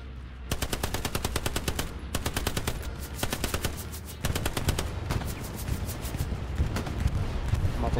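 Sustained automatic gunfire in the World War II shooter Hell Let Loose, long rapid bursts of loud machine-gun fire that keep going with only brief pauses, over a low rumble of battle.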